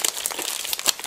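Crinkling plastic packaging being unwrapped from Japanese Kyoho grape jelly, a brief close rustle and crunch with no voices.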